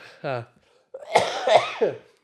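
A podcast host lets out a short cough, then after a brief pause a rougher run of coughing and throat-clearing bursts, close to the microphone.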